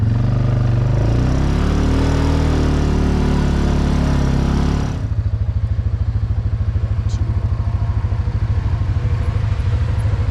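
An ATV engine straining under a heavy load in high gear on the Paiute trails, a loud steady drone that drops to a lower, pulsing chug halfway through, with no talking.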